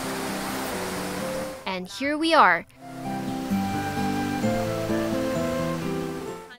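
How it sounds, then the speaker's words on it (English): Rushing water from Ng Tung Chai waterfall in a tropical rainforest in Hong Kong, a steady broadband roar heard alongside a brief spoken phrase. "We can hear the sound of water nearby."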